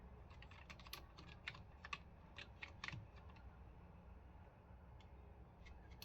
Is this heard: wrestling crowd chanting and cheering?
no